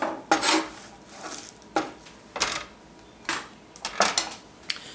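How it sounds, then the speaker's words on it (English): A kitchen knife slices cabbage into small pieces on a board for Korean-style tacos, a series of crisp separate cuts at an uneven pace, close and fairly quiet with no talk. "I'm just cutting it into small slices"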